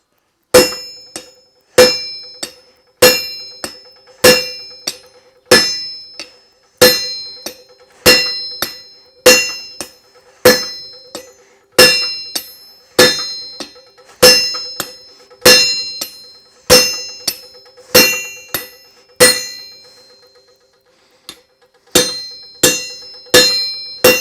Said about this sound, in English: we're going to use the big hammer